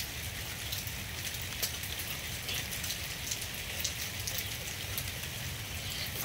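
Heavy rain pours steadily outside, a dense constant hiss with scattered drips and patters, with no talking.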